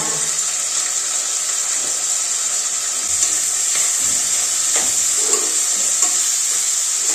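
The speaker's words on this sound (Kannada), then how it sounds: "ಎಲ್ಲ ಥರ ತರಕಾರಿ ಹಾಕ್ಬಿಟ್ಟು ಇವಾಗ ಫ್ರೈ ಮಾಡ್ಕೊತಾ ಇದ್ದೀನಿ" Mixed vegetables, including beans and brinjal, frying in a pan: a steady, fairly loud sizzle with occasional stirring clinks, close up, with no talk.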